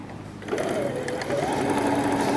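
Sewing machine stitching down the side seam of a bag's outer fabric, a steady whirring run that starts after a brief pause and speeds up partway through, close and continuous with no talk.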